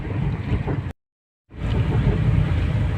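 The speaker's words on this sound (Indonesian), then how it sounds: "Aduh, suara kaki-kakinya berisik." A Peugeot 504 being driven with noisy, rattly suspension gives a steady, loud low rumble of road and cabin noise that cuts out briefly before resuming.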